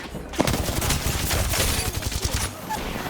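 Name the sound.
gunfire in the video game Apex Legends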